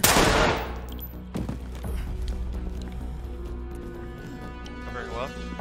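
Gunfire in the tactical shooter Ready or Not: a loud sharp burst up front, then a second shot and scattered lighter reports over a tense indoor background, with people talking throughout.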